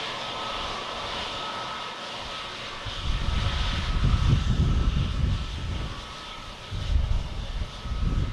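An airliner on approach into Boston Logan Airport rumbles in from a distance, its low engine roar swelling and wavering as it draws closer, with a faint steady tone underneath.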